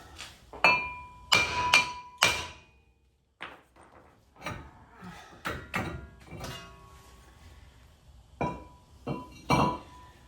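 Hammer blows ring out during a wheel bearing replacement on a 2008 Nissan Xterra, a series of sharp metallic strikes in irregular clusters, close and loud, with a few quieter knocks between them.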